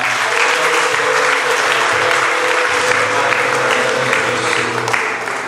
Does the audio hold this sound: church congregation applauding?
yes